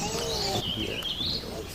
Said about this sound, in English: Just heard a warbling vireo there.